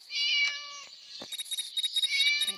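A trapped cat in the game Scary Teacher lets out a drawn-out, plaintive meow, then a quick series of short, choppy mews, loud and close with no talk over it.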